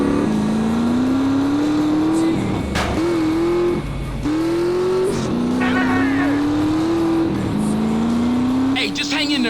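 A motorbike engine in GTA San Andreas during a Challenge Mod obstacle-jumping mission, droning steadily with rising and falling revs, brief dips and shifts, loud and continuous alongside game sound effects.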